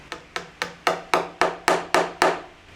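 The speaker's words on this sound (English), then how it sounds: "insert the pin, put it in the hole, and then hammer it in" Nine sharp hammer taps drive pins into a reed organ's lower action through a dowel, each a crisp woody knock followed by a brief ring, evenly spaced and close, with no talking.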